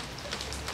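Rain falling outdoors, a steady dense hiss of drops on surfaces, fairly loud and continuous with no voices.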